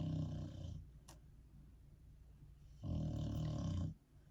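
A pet snoring at home in the morning, two slow drawn-out snores a few seconds apart, each a rumbling, buzzy breath, close and fairly quiet with near silence between them.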